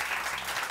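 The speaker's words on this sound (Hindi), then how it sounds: "इनके लिए तालियाँ, बहुत सही तालियाँ।" A brief burst of steady applause comes from a studio audience on a Pakistani morning television show, dense and continuous with no voices.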